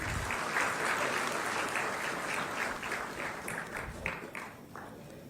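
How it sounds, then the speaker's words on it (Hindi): Audience applause fills a large hall at a government job-appointment ceremony in Uttar Pradesh, a steady dense wash of clapping that runs the whole time and thins slightly toward the end. "आप सभी की तालियों में ऊर्जा की थोड़ी कमी है"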